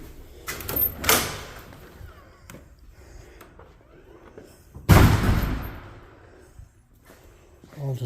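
Hotel doors being checked one after another: two sharp bangs, one early and a louder one near the middle, stand out against a quiet room with faint background murmur.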